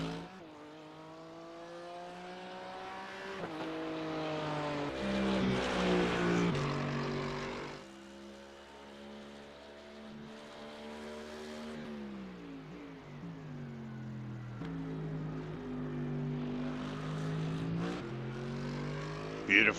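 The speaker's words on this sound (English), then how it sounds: "Beautiful sounding Merc V8" A Mercedes V8 engine in a GT3 race car at Sebring roars past during qualifying, rising and falling through gear changes with loud, throaty revs, passing close and then fading before another pull builds again.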